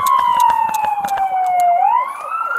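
A wailing siren sweeps down and back up in pitch, loud and close, over a rapid clicking rhythm and traffic noise.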